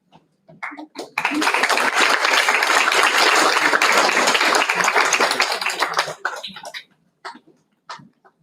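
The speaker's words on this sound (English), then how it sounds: "I'm sure all of you will give a thunderous applause." Audience applause at an institute's foundation day celebration in a hall, starting abruptly and holding loud and dense for about five seconds before fading into scattered claps, with brief voices around the edges.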